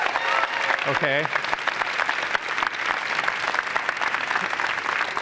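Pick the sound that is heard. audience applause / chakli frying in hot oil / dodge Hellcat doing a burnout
audience applause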